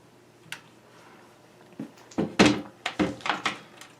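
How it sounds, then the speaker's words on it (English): Back door of a virtual pinball cabinet being closed and latched: a faint tap, then a series of loud, close wooden thunks and knocks with small rattles, bunched into the last two seconds. "I'm going to close this back door."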